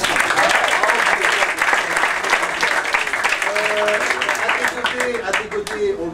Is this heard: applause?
yes